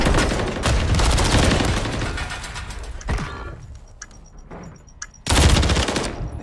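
Rapid automatic gunfire in a Call of Duty Search and Destroy match, loud dense bursts that ease to scattered shots and a lull before a sudden heavy volley returns.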